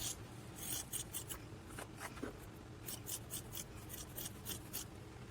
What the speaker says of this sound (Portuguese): E agora eu vou cortar sem precisar marcar com a canetinha.